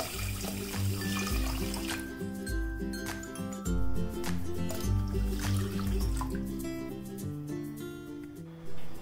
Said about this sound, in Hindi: फिर इसमें 1200 मिलीलीटर पानी मिलाएं।